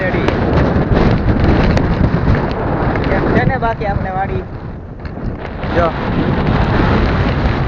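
Strong wind buffets the microphone on a village groundnut farm, a loud rushing rumble that runs throughout while someone talks over it.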